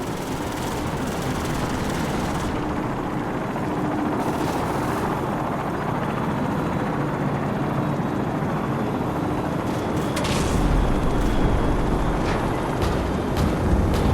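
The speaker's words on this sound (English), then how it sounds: "Crew, be advised, friendly helicopters entering the area." Friendly helicopters fly into a combat area in the video game Call of Duty 4, a dense, continuous roar of rotors and engine, with bursts of gunfire mixed in and growing slightly louder toward the end.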